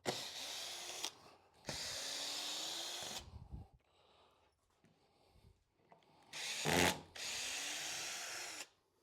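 A power drill backs screws out of a wooden sawhorse top in three long whirring bursts separated by quiet pauses, with light handling clatter in between.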